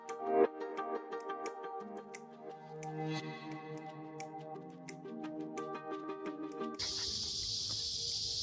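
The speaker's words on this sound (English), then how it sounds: "These are called cicadas." Cicadas in Sedona, Arizona give a steady high buzzing drone that starts near the end, following a stretch of plucked, bell-like music.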